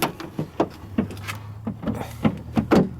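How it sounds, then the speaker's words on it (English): Rear barn doors of a 1999 GMC Yukon SLT 4x4 being opened, giving a run of close latch clicks, handle clunks and thuds in an uneven rhythm. "Barn doors. Gotta love the barn doors."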